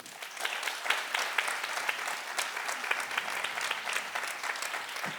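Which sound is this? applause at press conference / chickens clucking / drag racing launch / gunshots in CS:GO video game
applause at press conference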